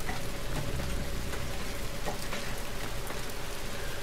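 Steady rain falling in the video game Battlefield 3, a dense, even hiss of drops that runs unbroken throughout at a constant level with no voices.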